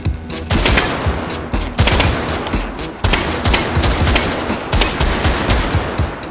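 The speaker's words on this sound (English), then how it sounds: "Nice beefy little sound effect too." An AK-style rifle fires in the VR shooter game H3VR: loud rapid automatic bursts with sharp repeated cracks, broken by short pauses over several seconds.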